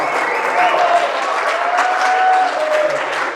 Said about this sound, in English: I want a loud round of applause for Ian